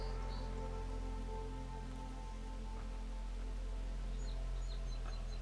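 Steady rain falling in the video game Horizon Forbidden West, a continuous soft hiss with a low ambient drone, faint bird chirps now and then.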